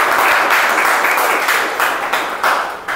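Audience applause at a speakers' meeting, a dense, steady wash of many hands clapping that stays loud throughout and eases slightly toward the end.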